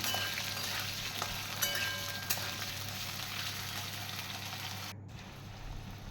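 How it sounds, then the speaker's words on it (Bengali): Potatoes frying in hot oil in a pan, a steady close sizzle with faint crackles throughout, briefly dipping near the end, with no talking. "আলুটাকে একটু জাস্ট দিয়ে মধ্যে ভেজে নিচ্ছি"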